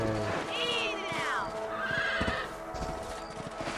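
A horse in the Red Dead Redemption video game lets out a loud, wavering whinny, followed by a shorter second neigh, with hoof clip-clops and game ambience underneath.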